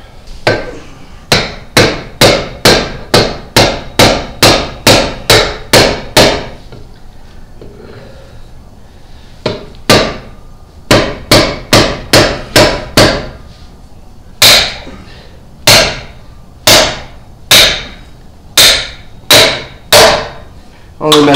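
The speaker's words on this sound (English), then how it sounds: "We'll go hit the hell out of it with a hammer." A hammer strikes a metal part on a 1996 Ford F-150 in quick bursts of sharp, ringing blows, several runs of rapid hits separated by short pauses, loud and close.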